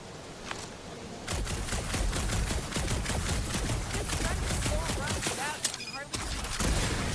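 Rapid gunfire in the Guardians of the Galaxy video game, aimed at a gunked-up reactor, rattles in a loud, sustained burst of dense repeated shots for several seconds, briefly pausing before resuming.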